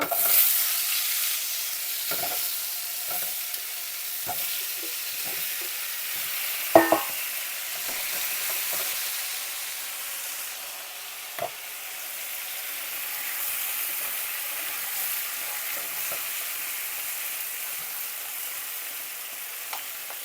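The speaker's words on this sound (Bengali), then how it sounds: "এখন আমি মুখিগুলিকে ভাজা নিব" Taro corms (kochur mukhi) fry in hot oil in a home kitchen, a steady faint sizzle and hiss with a few soft scattered clinks and pops, no voices.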